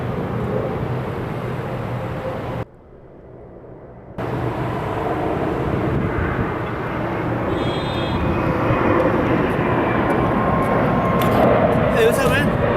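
Airliner taxiing at LAX airport, a steady low engine rumble and roar that swells gradually louder across the stretch, heard outdoors from a moderate distance with a brief dip in the middle.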